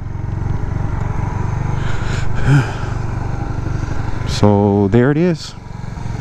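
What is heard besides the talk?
2008 Suzuki GZ250 motorcycle engine idling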